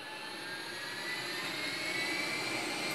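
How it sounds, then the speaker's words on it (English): A US Air Force jet plane in the GTA V video game gives a steady, loud jet engine roar with a high whine, building slightly and continuing without speech. "This is a US Air Force plane."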